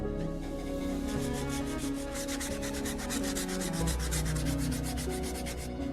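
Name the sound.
sanding an old sword with 120-grit sandpaper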